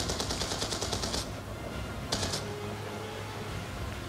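Heavy automatic gunfire in Call of Duty: Black Ops 2 during a convoy firefight, a fast rattling burst up close, a pause, then another short burst, over a steady low battle rumble.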